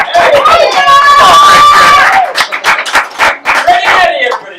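A comedy show audience claps and cheers at the close of the night, with bursts of clapping, whoops and shouts mixed with crowd chatter and a voice speaking over the noise.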